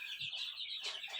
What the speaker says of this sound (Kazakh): Мынау біздің инкубатордан шыққан балапандар